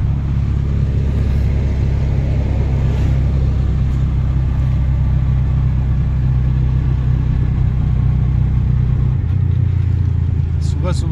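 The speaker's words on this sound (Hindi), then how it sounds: "सुबह ट्रैफिक बहुत हो गया आज।" An auto rickshaw engine rumbles loud and close as it drives through heavy morning traffic, a steady low drone with small shifts in pitch, accompanied by faint street noise and brief horn-like tones near the end.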